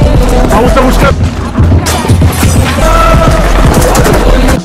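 Film shootout with drug dealers in a house, rapid bursts of loud gunfire and booming impacts under steady narration, dense and continuous throughout.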